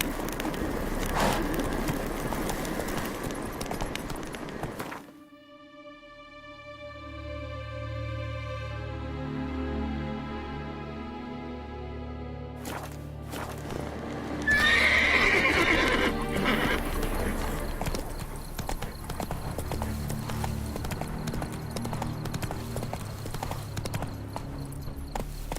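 Horse hooves clip-clop at a gallop with a loud whinny partway through, from the steed ridden in The Witcher 3 video game, set against in-game music and ambience with no one talking.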